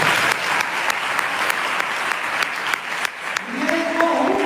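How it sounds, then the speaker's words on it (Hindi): A church congregation claps loudly and steadily in worship, dense sustained applause with a few sharp louder claps, while a voice briefly rises near the end. "जोर से ताली बजाओ यीशु के लिए।"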